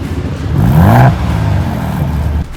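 A 2024 Ford Bronco Raptor exhaust in Sport mode barks through a quick rev, the engine note jumping up then easing back to a throaty idle, loud and nearby.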